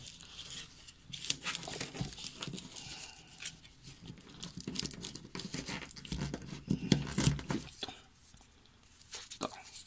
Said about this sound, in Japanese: 新しいリトマス紙を出そっか。